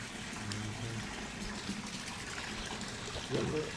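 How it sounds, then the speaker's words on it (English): Waterfalls rush softly and continuously in the background outdoors, faint and steady, with brief murmurs of voices nearby. "Got the waterfalls in the background."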